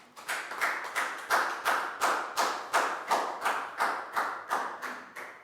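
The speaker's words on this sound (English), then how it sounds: "Big round of applause for Pangpon," A class of Year 4 students claps in unison for a classmate, a steady chant-like rhythm of about a dozen sharp, evenly spaced claps, fairly close and clear with no talking over it.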